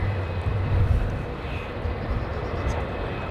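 A jet airliner takes off from runway 09, its engines giving a loud, steady broadband roar with a heavier low rumble early on that eases slightly but holds throughout, with no voices.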